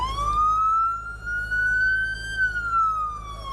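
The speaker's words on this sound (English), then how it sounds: "For many people, the sound of sirens and the sight of flashing lights and law enforcement officials can be worrisome." A police siren wails loudly and nearby in one long rising and falling sweep over a low rumble of traffic, with nobody talking.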